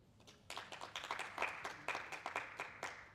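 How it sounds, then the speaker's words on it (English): A seminar audience at a beginners' investing talk claps for about three seconds, building into a steady patter of individual claps from a fairly small group in a quiet room. "Please have a round of applause"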